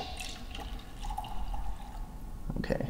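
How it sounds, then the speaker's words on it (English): Liquid is poured quickly into a cup, a soft splashing trickle with drips running throughout at close range, rising to a brief louder burst near the end. "It's you gotta pour it fast, I think."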